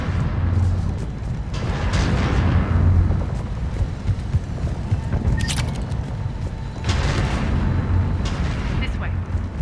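Heavy cannon fire in the video game Mass Effect 3 booms in repeated deep, rumbling blasts, with a roaring low-end wash between the shots.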